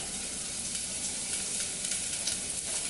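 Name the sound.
onions frying in hot vegetable oil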